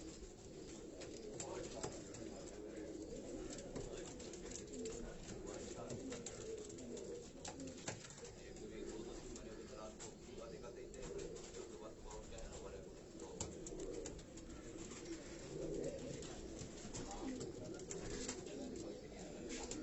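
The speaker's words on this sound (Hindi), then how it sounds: "ये उनके घर की रानी वाली ब्रीड के ये कबूतर मैं आपको दिखा रहा हूं।" Rani breed pigeons in a Karachi fancier's loft coo softly and repeatedly, a low rolling murmur that continues throughout while someone speaks over the birds.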